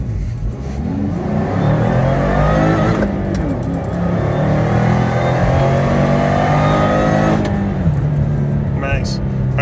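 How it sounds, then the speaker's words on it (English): A supercharged Subaru FB25 running 5 psi boost pulls hard from 0 to 60, its engine note climbing steadily with two clear shifts where the pitch drops before rising again, loud and close throughout. "Let's do a quick 0 to 60 run."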